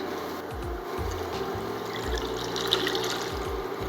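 Water pours into a pot of pickle brine made with dissolving kosher salt, a continuous close-up stream with gurgling, bubbling liquid sounds heard on its own without talk.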